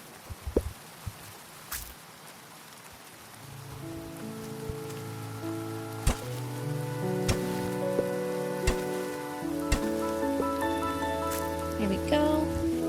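Rain in the farming video game Grimshire, a steady patter of drops falling on the ground with occasional sharper taps, accompanied by soft layered music tones that swell in partway through.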